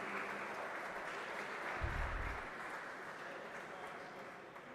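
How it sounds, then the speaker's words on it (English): An audience applauds steadily as the traditional lamp is lit by dignitaries at a student parliament event. The clapping is a dense, continuous wash of sound with a brief low thump partway through. "A big round of applause, my friends, as the traditional lamp is being lit at the hands of the dignitaries."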